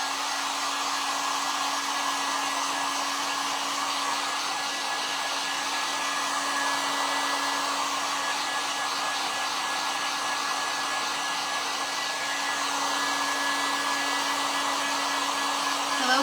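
A hair dryer blows steadily and close up for the whole stretch, drying a painted craft stack of books on a riser, with a constant whooshing roar and a faint whine held underneath.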